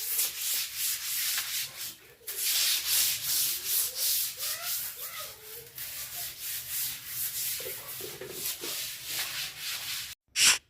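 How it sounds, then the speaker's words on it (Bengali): Broom scrubbing a concrete tap platform floor, a steady close rasping and brushing in repeated strokes that runs nearly the whole time, then stops briefly before one last loud scrape. "আজকে কলপাটটা কিন্তু এমনিই মানে ঝাড়ু দিয়ে ঘষে দিলাম"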